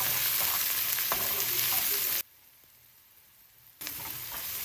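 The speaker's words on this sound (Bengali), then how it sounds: "দিয়ে দিলাম একটুখানি তেল একটু জিরে ফোড়ন রসুন কুচি পেঁয়াজ কুচি কাঁচা লঙ্কাও দিয়ে দিলাম দিয়ে একটু ভেজে নেবো এগুলোকে" Cumin, chopped garlic, onion and green chili frying in oil give a loud, steady sizzle, broken by a short quieter gap before the crackle returns.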